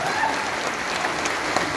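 Applause from a crowd at an election rally in Asansol after a candidate's nomination filing, a dense steady patter of clapping that holds evenly throughout without a break.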